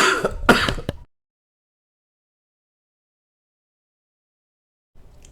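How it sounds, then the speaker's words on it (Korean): A person with a lingering cold clears their throat harshly, once or twice, close and loud, then a long silence follows. "죄송합니다. 기침이 나와갖고요"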